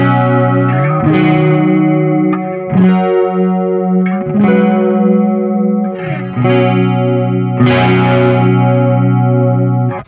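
Sonicake effects pedal applies pitch modulation at half depth to an electric guitar, producing a wavering, chorus-like shimmer over several loud sustained strummed chords with sharp attacks, played alone without talk.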